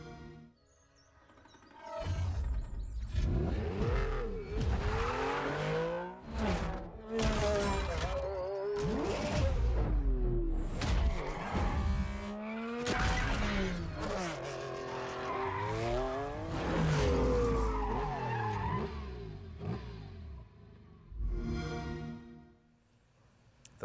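A Porsche 3.0 Turbo racing in Forza Horizon 4, with engine roar rising and falling through repeated gear shifts and bursts of tire squeal and skidding, loud and continuous for over twenty seconds before fading.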